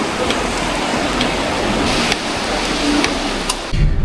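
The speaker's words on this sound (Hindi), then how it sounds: "बहुत प्यारी बारिश हो रही है" Steady rain falls during a flood in Vietnam, a dense even hiss with soft patters, continuous and fairly loud, ending with a brief low bump.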